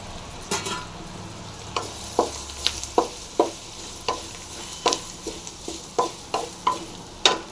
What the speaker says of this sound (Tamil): நல்லா கலக்கி கொடுங்க